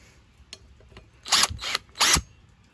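A brake caliper bolt comes off a 1994 Honda Magna 750 in two short bursts of ratcheting, buzzing tool noise after a few faint clicks, close by and alone.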